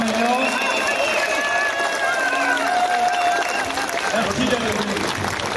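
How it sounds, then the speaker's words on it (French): Audience applause and cheering for Nicolas Dupont-Aignan after his speech, a dense steady clatter of clapping with crowd voices and shouts mixed in throughout. "Bravo, vous pouvez encore l'applaudir"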